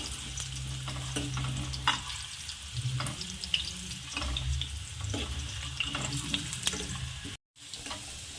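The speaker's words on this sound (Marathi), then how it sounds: "याला हलवत राहायचं आहे आणि पूर्ण फ्राय करून घ्यायचं आहे" Potatoes sizzle steadily in a pan of hot oil while being stirred for dum aloo, with repeated scraping stirs and small clinks over a continuous frying hiss, close and moderately loud.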